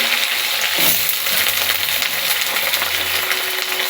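Raw vegetables land in hot oil seasoned with panch phoron, setting off a loud, crackling sizzle up close with a few clinks and stirring noises over a few seconds.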